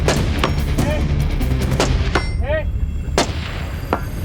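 Rifle shots fired from a tripod ring out outdoors, several sharp reports spread over a few seconds, loud and close, with faint talk and a brief whistle-like tone between them.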